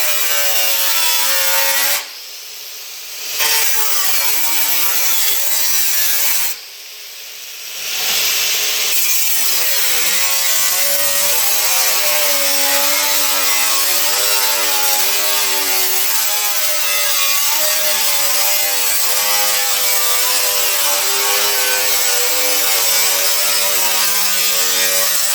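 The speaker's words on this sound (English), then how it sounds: "I'm just going to slowly fade into this here and cut the strip off all the way around" Steady, continuous cutting of a strip around the edge of a crusty car firewall panel, a loud rasping drone with shifting pitch that pauses briefly twice early on, then runs unbroken to the end.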